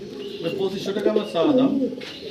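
Pigeons on a pigeon farm cooing in soft, throaty, warbling calls, close by and overlapping with one another.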